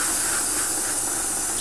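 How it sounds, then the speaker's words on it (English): Airbrush spraying a liberal coat of hairspray onto a Tamiya 1/35 Panzer II model, a steady close airy hiss lasting the whole moment with no talking. "just spray it on. Good liberal coating all over of hairspray"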